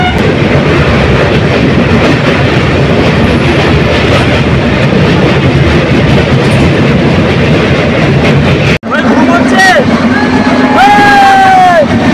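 The Darjeeling Mail passenger train running at speed at night: a loud, steady roar of wheels and wind rushes close by, broken by a brief dropout, then high squealing tones rise over the rumble.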